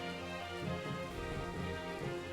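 Rain ambience in the video game Triangle Strategy, a faint, steady wash of falling rain with soft patters, continuous throughout.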